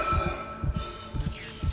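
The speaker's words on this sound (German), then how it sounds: "Einfach mal so spontaner Herzschlag" A steady in-game heartbeat from the survival-horror game Dead Space pulses in paired low thumps, four beats spread evenly across the moment, loud and close over a faint hum with no talking.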